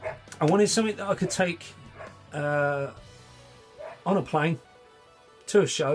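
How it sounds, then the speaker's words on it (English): A dog barks indoors, one harmonic bark standing out between stretches of someone talking, near and fairly loud. "if you can hear a dog barking, that's my boy"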